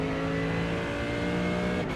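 A race car engine holds a steady, loud drone through a lap of Watkins Glen, its strong harmonic tone continuous for two seconds with no talk over it.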